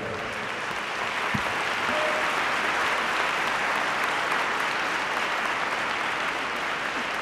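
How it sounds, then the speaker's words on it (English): A convocation audience in a hall applauds a Doctor of Laws honorary degree at Carleton University, a sustained, even wash of many hands clapping that fills the whole stretch without pause. "Can't applaud before I award the degree"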